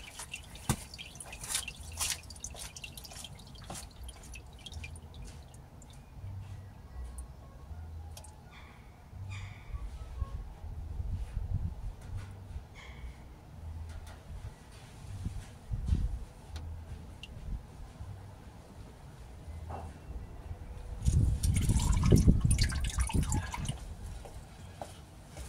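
The last engine oil drains from a 1999 Porsche Boxster 986 into a pan, heard as faint, irregular drips and trickles close by, with some handling noise and a louder clatter near the end.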